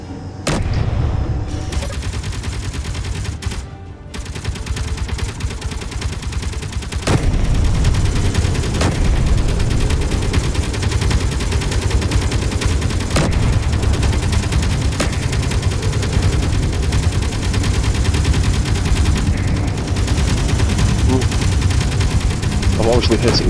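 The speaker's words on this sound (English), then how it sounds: "I've obviously hit it with the assault cannons because it's thrown it off balance" Rapid, sustained assault cannon fire in the space game Space Engineers, a dense continuous barrage of booming shots lasting the whole stretch, loud and close, with a brief lull early on.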